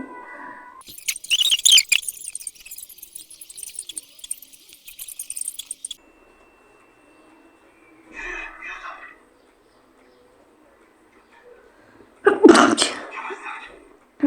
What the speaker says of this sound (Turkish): artık hapşırdım burada